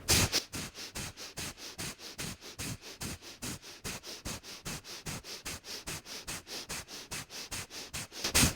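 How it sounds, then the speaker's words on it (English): Rapid Kapalabhati yoga breathing through the nose: forceful, sharp exhalations pumped out in a steady fast rhythm, about three per second, close and loud, with no talking. "Make a cup in your palm, and we'll pump out about 20 Kapalabhati breaths."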